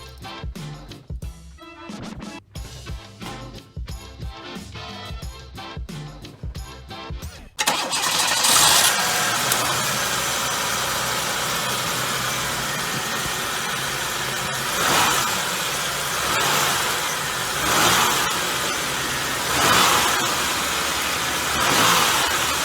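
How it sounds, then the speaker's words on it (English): A car fitted with an aftermarket intake cranks and fires, then settles into a loud close idle and is blipped several times in spaced revs, with no talk over it. "let me start her up, show you guys how it sounds with that on there"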